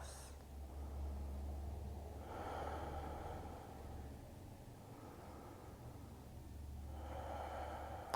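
Slow, deep breaths during a morning vinyasa yoga flow, each long inhale and exhale rising and falling softly three times against a quiet steady room hum.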